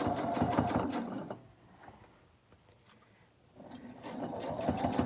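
A sewing machine stitches bias tape onto a fabric face mask in fast whirring runs, close and fairly quiet, stopping for a couple of seconds of near silence in the middle before running again.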